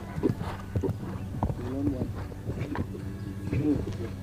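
Show jumping horse in an arena at an equestrian championship, hooves clip-clopping in a few scattered, moderately close thuds while a commentator talks over them.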